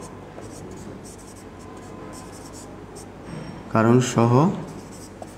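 Pen writing by hand on paper during an accounting lesson, a soft continuous scratching and rubbing close up, while someone speaks briefly near the end.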